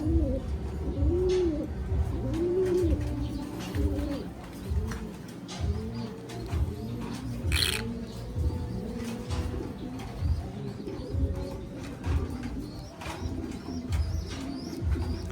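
A pigeon coos repeatedly at close range, giving soft low throaty calls in an uneven rhythm, with a faint background hiss and one brief sharp noise partway through.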